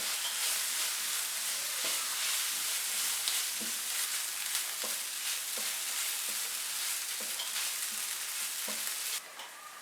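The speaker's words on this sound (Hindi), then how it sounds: "अब इन सबको 2 मिनट के लिए फ्राई करेंगे।" Chicken pie filling with herbs, salt, black pepper and garlic powder fries steadily in a pan, giving a continuous close sizzle broken by regular scraping taps of a stirring spoon, with no talking.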